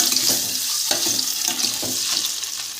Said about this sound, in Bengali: তেল গরম করে ডিম আলু সব একে একে ভেজে নেব।